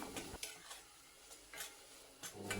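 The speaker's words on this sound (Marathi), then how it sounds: "हे मसाले ना तेलामध्ये व्यवस्थित असे परतले गेले पाहिजेत" Ground spices sautéing in oil in a pan, a quiet continuous sizzle broken by repeated spoon scrapes and stirring knocks, close and without any voices.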